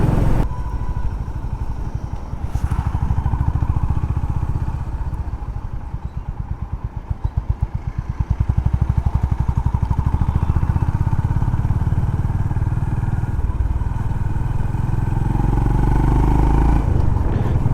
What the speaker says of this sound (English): you can feel the sound of the exhaust note